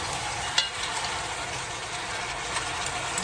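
Goat meat browning in a hot Dutch pot gives a steady, even sizzle throughout, with a faint clink near the start and no talking.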